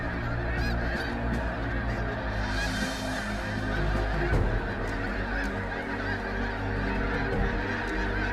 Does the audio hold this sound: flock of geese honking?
yes